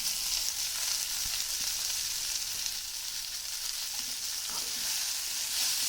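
Dill leaves sizzling in a pan of fried onions, a steady broadband hiss of frying with occasional soft stirring scrapes, close and continuous with no talking.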